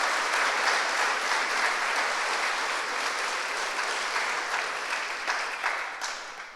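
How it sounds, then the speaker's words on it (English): A steady, dense round of applause from the audience at a city's State of the City event, sustained and even before tapering slightly at the end. "Let's give another round of applause for Pasadena Media"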